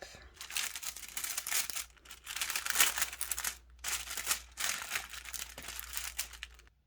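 Protective paper crinkles and crumples in several loud bursts of rustling, separated by short pauses, while a small bottle bag is unboxed.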